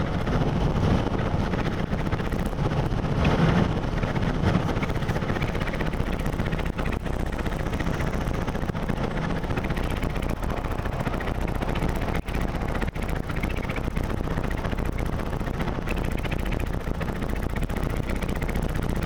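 A car moving at 80 km/h, with constant loud wind buffeting and rumble around the cabin along with a low engine and road drone, steady for the whole stretch.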